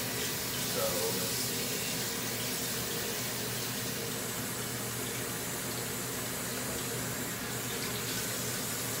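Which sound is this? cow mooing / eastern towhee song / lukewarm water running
lukewarm water running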